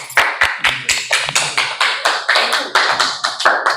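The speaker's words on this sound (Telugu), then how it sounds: "క్లాప్స్" Children in a classroom clap together in a steady rhythm, about a dozen sharp, evenly spaced group claps in quick succession.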